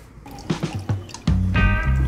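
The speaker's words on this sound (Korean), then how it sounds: "이제 수조에 넣고 물을 채웁니다." Water is poured into a small aquarium tank: a few soft drips and splashes, then a steady, close gushing fill that runs to the end.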